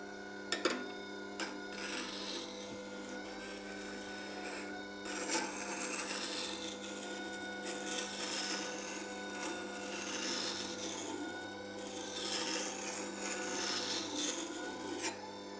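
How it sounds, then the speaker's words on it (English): A carving gouge is being sharpened on a coarse, slow-turning Record Power grinding stone in a short tool jig, giving a soft continuous scraping rasp with a steady low machine hum and faint ticking, close and fairly quiet. "soon as that line of light disappears, I must stop grinding"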